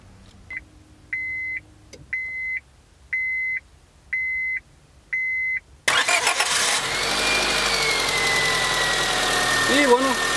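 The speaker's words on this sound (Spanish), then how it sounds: "vamos a encender el carro." A Honda car's engine cranks and catches after a series of five evenly spaced dashboard chimes, then settles into a steady, loud idle with a faint whine above it; a voice is briefly heard near the end.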